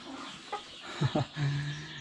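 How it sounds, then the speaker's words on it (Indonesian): A pluker chicken, an Indonesian village fowl, gives a few short clucks close by, followed by a longer drawn-out call, with no talk. "Ini ayam pluker."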